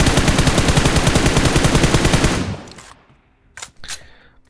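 Automatic gunfire in PUBG Mobile rattles in a fast, loud, evenly spaced burst for over two seconds, then cuts off, followed by two brief fainter bangs.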